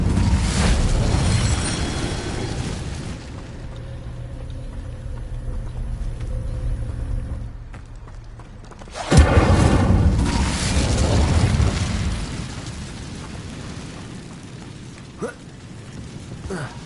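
An Incendio fire spell in the game Hogwarts Legacy bursts with a loud whooshing blast midway, preceded by rumbling roar and followed by crackling, fading fire, all in a dense bed of game ambience.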